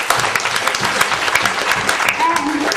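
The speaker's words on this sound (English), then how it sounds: "give yourselves a big round of applause" Audience applause at a Tagalog-language business presentation, dense sustained clapping filling the whole stretch, loud and steady with a brief tonal sound near the end.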